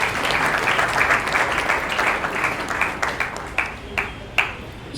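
Mourners at a funeral applaud together, a steady wash of clapping that gradually thins into scattered, separate claps toward the end.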